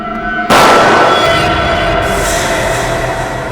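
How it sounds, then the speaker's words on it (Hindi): A single sharp gunshot bursts out loud and close, then rings off into a lingering reverberant tail with no speech, set in a crime-drama scene. "गोली चलने की आवाज।"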